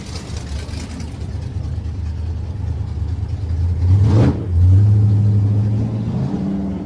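Nostalgia drag race cars launching at a drag strip, a loud roaring engine note building and then surging up in pitch as the cars accelerate hard away, with crowd-level background noise throughout.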